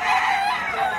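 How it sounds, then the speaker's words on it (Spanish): A fighting rooster kept at a Spanish-language game-fowl breeding yard crows in one brief, loud, close call. "Gallo padrote aquí en la traba."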